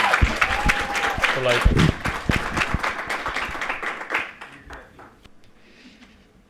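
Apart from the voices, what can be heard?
audience applauding for Dr. Ruiz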